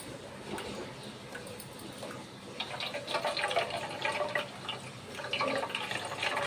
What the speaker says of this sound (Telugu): దీన్ని మంచిగా నీరే పిండి వేసుకోవాలి ఇలా గుడ్డలో వడగట్టుకున్నాం